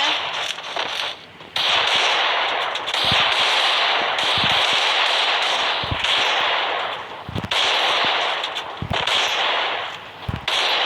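Rapid gunfire from a shooting video game, loud bursts and sharp cracks over a dense, sustained roar of game noise, with brief dips between volleys; no talking.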